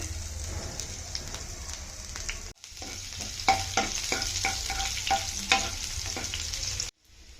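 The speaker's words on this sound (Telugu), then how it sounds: "ఆయిల్ హీట్ అయిన తర్వాత ముందుగా కట్ చేసి పెట్టుకున్న వెల్లుల్లి పచ్చిమిర్చి అయితే వేయించుకోండి" Chopped garlic and green chillies frying in hot oil in a kadai, a continuous crackling sizzle with stirring scrapes and pops, briefly cut off and resuming.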